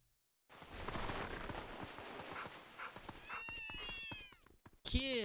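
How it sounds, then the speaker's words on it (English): Cat meowing in the video game Zelda: Twilight Princess: a few short, rising meows, with a louder one near the end, over game background noise and clattering effects, moderately close. "Kitty."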